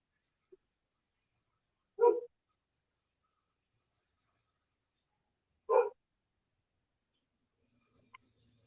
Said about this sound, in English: My dog's barking at the neighbors again.